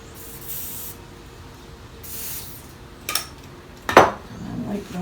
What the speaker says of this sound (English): This I'm going to use WD-40 on.